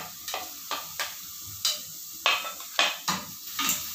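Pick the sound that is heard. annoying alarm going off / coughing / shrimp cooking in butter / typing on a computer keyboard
shrimp cooking in butter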